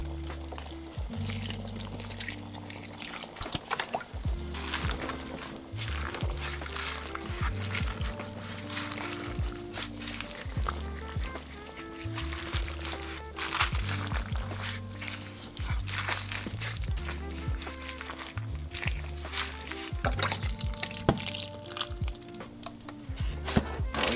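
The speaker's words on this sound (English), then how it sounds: "A little bit of broth I can add to this." Broth pours into a pot of 15 bean soup, a steady soft liquid stream with a low background hum and light clinks, moderately quiet and continuous with no talking.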